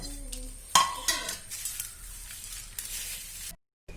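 Dried jackfruit mixture gets tossed and stirred in a large vessel in a Kerala kitchen, with dry rustling and a few sharp clinks of utensil against metal, close and fairly quiet, ending abruptly.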